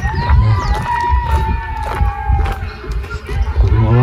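A crowd at an outdoor private party near a football field, loud overlapping shouting and voices with sustained yells, fairly close and dense.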